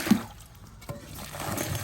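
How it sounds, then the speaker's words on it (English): Water poured into a freshly dug post hole during a chain link fence installation in Florida gives a brief, faint splash and trickle near the start, over low background noise. "Pour some water in there, real quick."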